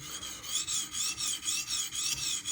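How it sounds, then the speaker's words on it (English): A Spyderco Magnamax knife is drawn across a sharpening stone under light pressure in a steady back-and-forth rhythm, each stroke a close, gritty rasp, about eight strokes in quick succession. "when you're sharpening, you don't need to put a lot of pressure. The stone does all the work"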